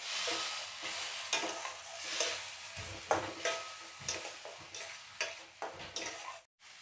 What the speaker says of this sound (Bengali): মশলাগুলোকে দিয়ে ভালো করে কষিয়ে নেব।